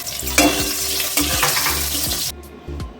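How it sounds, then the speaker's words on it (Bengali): Potatoes fry in oil seasoned with five-spice, bay leaf and dried red chillies, crackling loudly with stirring clatter before cutting off abruptly, then a short burst of sizzle returns. "আলুটা একটু ভাজা ভাজা করে নিলাম"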